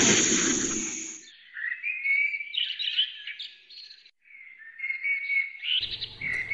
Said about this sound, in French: remplissait ses oreilles des chants des oiseaux